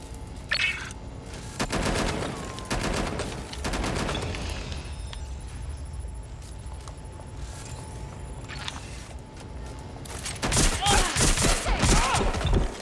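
Gunfire in Watch Dogs: Legion, bursts of automatic shots in loud clusters at the start and again near the end, separated by a quieter stretch with a steady tone and faint background noise.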